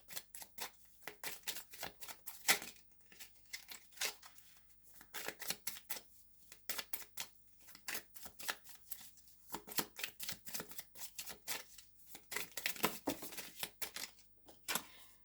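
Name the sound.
shuffling and drawing tarot cards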